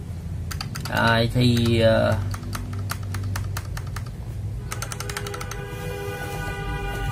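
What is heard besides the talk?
typing on GamaKay LK67 mechanical keyboard with AKKO switches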